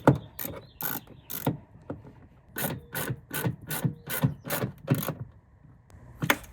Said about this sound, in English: we will put these 2 bolts back with our 6mm socket on our 1/4" drive ratchet.